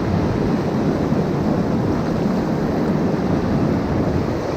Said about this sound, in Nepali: म यो मर्साङदी खोलामा छु अहिले यो तलको पानी यहाँ रमाइलो छ